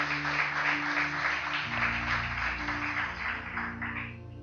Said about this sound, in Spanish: Bendecile con un fuerte aplauso a Dios.